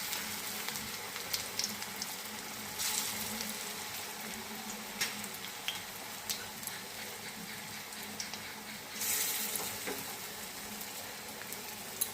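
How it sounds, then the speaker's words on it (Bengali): Cabbage, green chilli and gram flour fritters frying in hot oil in a kadhai, a low steady bubbling sizzle with occasional stirring knocks and a louder burst near the end, no voices. "এখন এগুলো তেল গরম করে কড়াইতে দিয়ে দেবো"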